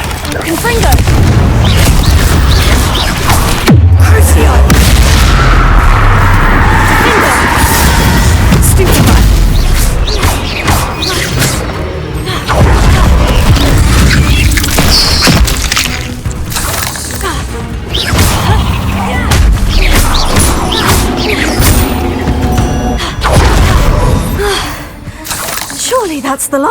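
Confringo fire spells burst in a Hogwarts Legacy battle: repeated loud booming explosions and crashes over a busy game soundtrack, with a voice shouting and gasping amid the combat.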